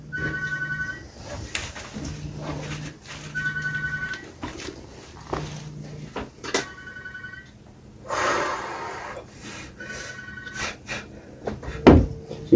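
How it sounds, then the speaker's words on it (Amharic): A mobile phone ringtone repeats in short melodic bursts during an indoor quiz game challenge, ending with a brief clatter, with no one speaking over it. "የማን ስልክ ነው የሚጮህ?"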